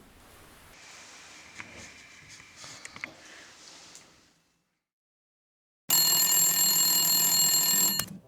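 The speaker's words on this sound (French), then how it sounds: "Mais pourquoi il y a encore ce téléphone?" A telephone suddenly bursts into a loud, continuous electronic ring after a quiet room ambience and a brief silence, ringing close and steady for about two seconds.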